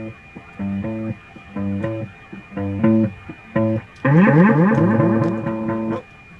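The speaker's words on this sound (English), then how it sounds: "I'll alternate between the delay, the Rainbow Machine, and the distortion with some feedback." Electric guitar notes played through a delay, a Rainbow Machine pedal and distortion with feedback, with short repeated bursts followed by a denser swirling, sustained passage, loud and close, no voices.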